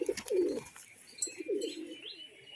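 Pigeons of the Bali Powder and Lalkat breeds coo softly near a loft, two low rolling coo phrases with light chirps and a brief wing flutter between them, no talk.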